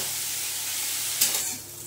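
A cutlet mixture with added sugar fries in a pan, giving a close, steady hissing sizzle that briefly flares louder partway through before settling again.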